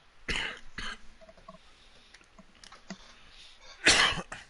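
Several sharp coughs from someone with allergies, two close together at the start and a louder, harsher burst near the end, with quiet room noise between.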